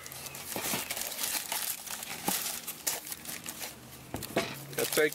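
Sheets of graphic-printed packing paper crinkle and rustle close by as a pair of Fila KJ7 sneakers in a Miami Dolphins colourway is pulled from the box, with soft, uneven scraping through the whole stretch.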